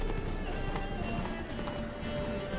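Hoofbeats of Roach, Geralt's horse in The Witcher 3: Wild Hunt, galloping in a steady, continuous clip-clop rhythm under a dense bed of game music and ambience, close and moderately loud throughout.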